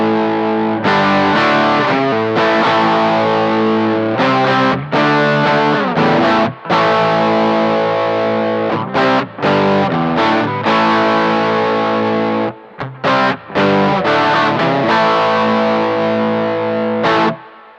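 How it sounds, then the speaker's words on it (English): Electric guitar played through a Line 6 HX Effects distortion pedal model set to down clipping, with thick sustained chords and short stops between strummed phrases, loud and steady with no voices. "this is the down clipping, which should give you less headroom and more distortion."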